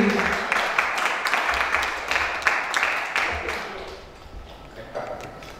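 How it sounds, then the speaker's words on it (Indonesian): An audience breaks into applause, a dense patter of clapping that gradually thins and fades out toward the end. "Kita berikan tepuk tangan untuk Mas Gundi."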